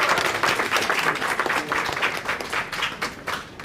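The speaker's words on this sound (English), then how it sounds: "Give yourself a round of applause for being here." An audience at a live event applauds in a steady, moderately loud round of clapping with slight swells, many hands at once and no talking over it.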